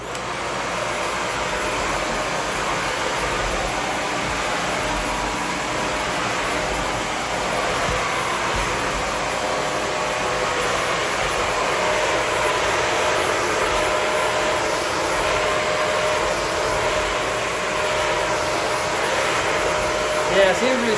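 A vacuum cleaner runs on hallway carpet, producing a steady, loud motor drone with airy whine that holds constant the whole time, with no other sounds over it.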